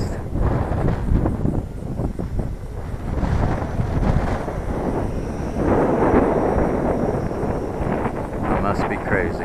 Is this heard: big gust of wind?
yes